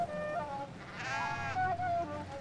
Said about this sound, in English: Stupid sheep. Leave me alone.